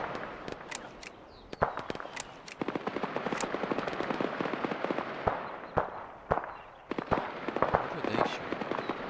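Gunfire rattles through a military video game, with scattered single shots and short bursts, some sharp and close, others softer, over a continuous rumbling background for about nine seconds, with no talk.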